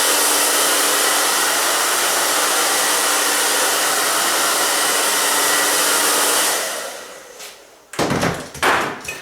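A hair dryer blow-drying hair during a haircut roars loud and steady for several seconds, then winds down and stops, followed by a few clunks and handling knocks.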